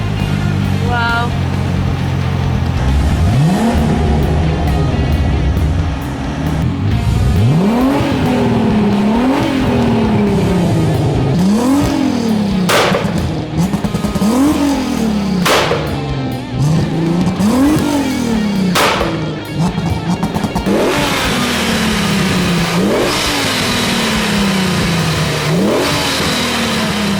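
A 1000 HP diesel VW Golf accelerates hard from close by. The engine climbs through the gears with repeated rising revs, each cut off by a shift, over a constant roar.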